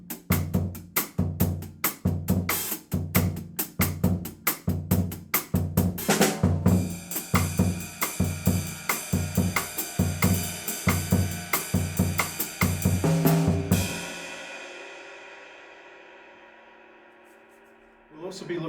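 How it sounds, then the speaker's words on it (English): A jazz audition bossa nova drum groove, the right hand riding first on the hi-hat and later on the ride cymbal, steady crisp syncopated hits over low drum thumps, ending as a cymbal rings out and fades alone. "play a bossa nova, maybe starting with your right hand on the hi-hat and then eventually moving to the ride cymbal"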